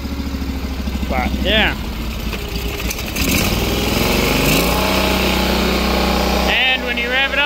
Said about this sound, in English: we got the mixer running again. It'll actually idle finally.